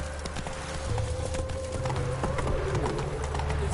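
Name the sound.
hooves of horse Roach, from video game The Witcher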